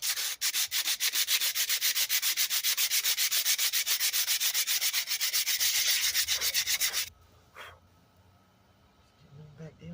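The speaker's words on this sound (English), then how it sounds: "Also need to try to sand the receiving end" A part from an MTD mower is sanded by hand in fast, rhythmic back-and-forth strokes, loud and close for about seven seconds. The scraping then stops, leaving a few faint knocks and movement sounds.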